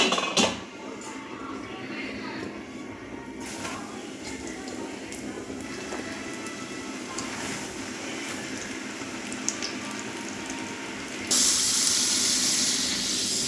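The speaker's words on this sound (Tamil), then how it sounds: "நுரை அடங்குனதும் கொஞ்சம் கொஞ்சமாக போட்டு எல்லாம் வறுத்து எடுத்துக்கலாம்" Potato fries cook in hot oil with a continuous bubbling hiss, a few clinks of utensils, and a brighter, louder surge of hiss near the end.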